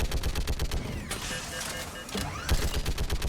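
Rapid automatic gunfire in the video game Mass Effect Legendary Edition, dense loud bursts of shots with a short lull of whooshing effects in the middle before firing resumes.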